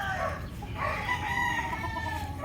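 A Boston roundhead gamefowl rooster crowing close by, one long drawn-out cock-a-doodle-doo over a steady outdoor background, with other poultry faintly audible.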